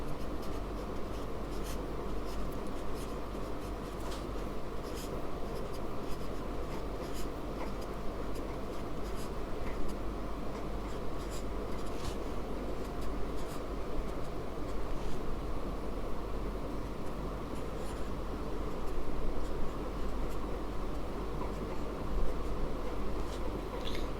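Pen writing out a number factorization on paper: continuous close scratching strokes with soft rustle, steady and unbroken, with no talk.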